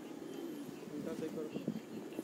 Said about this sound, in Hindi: कासनी बनारसी कबूतर है।